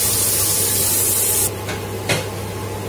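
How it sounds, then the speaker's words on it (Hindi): Chopped onion sizzles in a hot pan for a Dal Baati Churma recipe, a loud steady hiss that drops abruptly halfway through, followed by a couple of brief scraping stirs. "अब प्याज डालिए, 1 बड़ा प्याज काट के डालिए। इसको 2 मिनट के लिए फ्राई कर लिए।"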